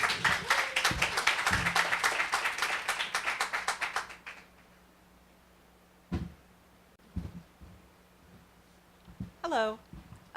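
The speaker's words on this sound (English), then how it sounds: "Please give Evelyn a big round of applause." Audience at a literary workshop on memoir and oral history gives a round of applause that fades out after about four seconds, followed by quiet room sounds, a few thumps and a short voice near the end.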